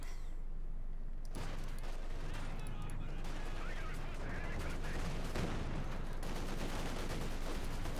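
Battlefield combat in the Company of Heroes 2 strategy game, with dense, continuous bursts of rifle and machine-gun fire and heavier mortar blasts layered into a loud, chaotic din.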